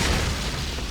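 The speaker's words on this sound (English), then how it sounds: "Grenade!" Grenade explosion in Metal Gear Solid 4, a loud, dense booming blast of broadband noise lasting under a second, close and full, with no speech.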